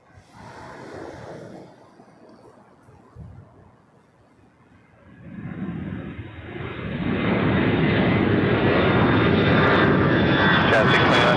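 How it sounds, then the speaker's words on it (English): An Airbus A330neo jet airliner on final approach at Toronto Pearson swells from a faint distant hum into a loud, steady jet engine roar that fills the second half, with faint radio chatter early on. "A330 Neo on final."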